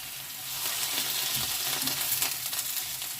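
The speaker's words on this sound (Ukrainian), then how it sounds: "Так, картопля обсмажилась" Potatoes fry in a pan for stewed potatoes with mushrooms, giving a steady, close hiss of sizzling oil that stays even throughout with no voices.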